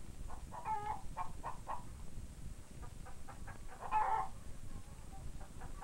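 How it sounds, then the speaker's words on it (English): Chickens cluck softly in a farmyard where a mother hen leads her chicks, with scattered short clucks and calls over a steady background hiss, fairly faint and distant. "all the chicks will be out of their nest, following mother around the yard"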